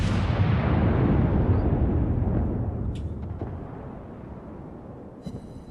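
A World of Warships battle salvo: a huge, booming blast of warship guns and shell explosions that rumbles and slowly decays over several seconds, with faint distant pops and crackles near the end.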